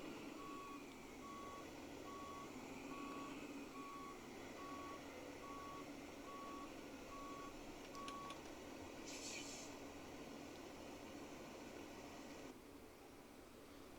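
A truck backing in at a site gives off a steady series of evenly spaced reversing beeps over a low rumble and broadband hiss. The beeps are moderately distant and stop partway through.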